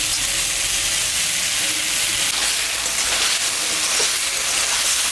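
Ground ginger, cumin and red chili paste hit hot oil in a pan with salt and turmeric for a fish curry, giving a loud, close, continuous sizzle and hiss with no talk.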